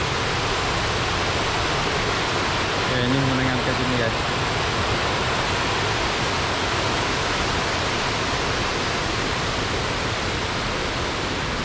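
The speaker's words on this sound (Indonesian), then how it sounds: "Okey, cantik betul guys air terjun ni." Roaring waterfall near Batu Lintang, Sri Aman, with muddy water swollen by upstream rain, a loud, steady broadband rush filling the whole clip while someone speaks briefly over it.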